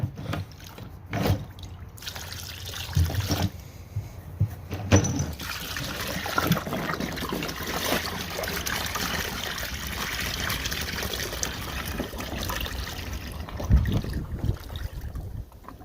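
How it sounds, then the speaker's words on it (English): Vinegar is dumped out of a car's metal gas tank during removal of failed tank sealer, giving uneven splashing and trickling with occasional clunks and scrapes of the tank, fairly close. "Go dump out the vinegar."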